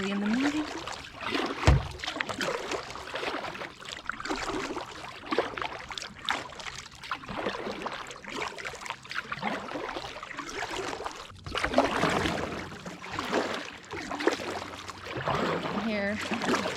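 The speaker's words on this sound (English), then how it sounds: "out here kayaking on Eels Creek" Kayak paddling on Eels Creek in Ontario early in the morning, with repeated paddle strokes and water trickling and splashing close by, in an irregular rhythm with occasional knocks.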